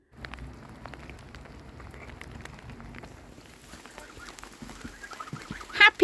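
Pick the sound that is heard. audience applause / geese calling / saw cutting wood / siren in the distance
geese calling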